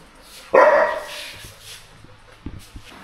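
Dogs at a new cottage give one sharp, loud bark, then a few soft thumps and faint whimpering noises follow.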